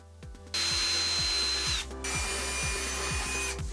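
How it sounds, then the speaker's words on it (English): A power drill bores holes into a wooden box in two bursts, each a loud, steady whine that spins up and winds down, separated by a short pause, close by and with no talking. "and then drill 2 holes"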